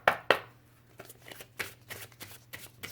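Oracle cards shuffled and drawn by hand: two sharp snaps of cards up front, then softer scattered flicks and slides, close and fairly quiet with a low steady hum underneath.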